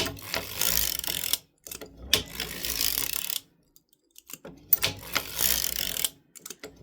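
Circular sock knitting machine working short-row heel rows on a shorty scrappy sock, giving a close, steady mechanical clatter and ratcheting whir in bursts, separated by brief pauses.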